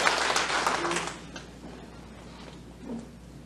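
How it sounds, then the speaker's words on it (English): A church congregation claps briefly at a Sunday service, a soft, diffuse patter of hands that is strongest at the start and fades into a low murmur of the room. "Let's give the Lord a clap of it."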